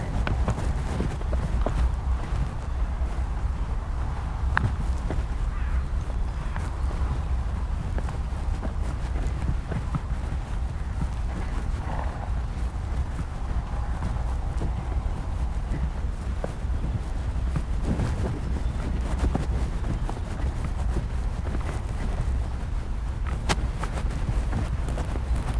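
A horse walks steadily with hooves clip-clopping at an even pace under constant wind-like background noise, the footfalls fairly subdued.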